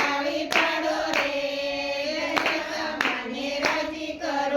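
Both hands clap at a steady, repeated beat alongside a sung Gujarati devotional song to Dashama; the claps come in a regular rhythm over the continuous singing.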